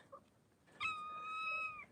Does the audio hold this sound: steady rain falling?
no